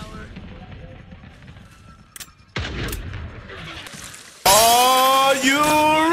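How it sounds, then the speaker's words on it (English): A rocket launcher fires in a video game: after a low rumbling stretch, a sudden heavy blast hits, followed by an even louder, bright, ringing burst that carries to the end. "Rocket launcher."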